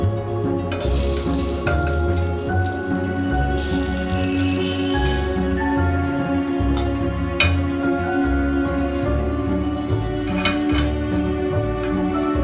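Potato fingers sizzling steadily on a cast iron grill pan with a light brushing of oil, a loud, close, continuous frying hiss with occasional small clinks and crackles, no talking.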